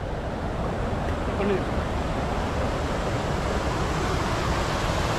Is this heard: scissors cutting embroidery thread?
no